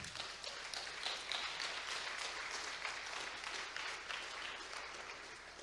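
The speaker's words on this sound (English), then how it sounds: "if you really want to applaud for our Savior" Sustained audience applause fills a conference hall at an apologetics session, a dense, steady wash of clapping that stays loud and even throughout with no voices over it.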